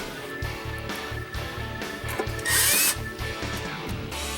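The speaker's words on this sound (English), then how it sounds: "you can't just zap the screws in one by one and call it done." Power drill driving screws partway into sinks during a Vidar build, with a steady rhythmic whirring pulse close up and a brief louder high-pitched whine in the middle.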